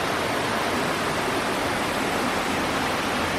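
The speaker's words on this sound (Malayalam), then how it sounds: "ഇതേ ഒരു വെള്ളച്ചാട്ടം ഉണ്ടാവും" Steady, dense roar of falling water from a waterfall near a cave house resort in Munnar, loud and continuous throughout with no voices.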